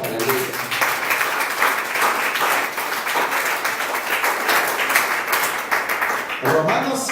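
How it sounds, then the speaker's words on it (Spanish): Church congregation applauds steadily and fairly loudly, with a continuous wash of clapping that breaks briefly near the end. "Dale fuerte aplauso al Señor."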